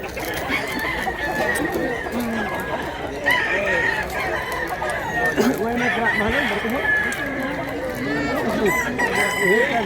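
A big rooster crows repeatedly among clucking chickens at a poultry sale in rural Cebu, the calls loud and close over steady background chatter of people talking.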